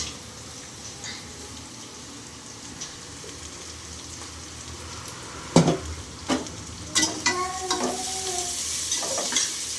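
Onions frying in a pan for onion rice, a steady soft sizzle throughout with several sharper clanks of a spoon against the pan toward the end.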